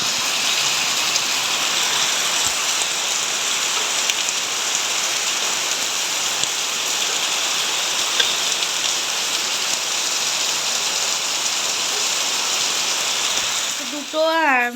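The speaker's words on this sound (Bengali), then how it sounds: "বাড়ি আসার পরে দেখো আরও জোরে বৃষ্টি শুরু হয়েছে" Heavy rain pours down at home in the early morning dark, a dense, loud, unbroken hiss of drops that carries on for the whole stretch, with a voice cutting in briefly at the very end.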